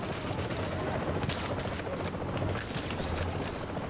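A dense, continuous stretch of gunfire from The Division video game, with sniper shots cracking among rapid bursts and mechanical clatter, steady and fairly loud throughout.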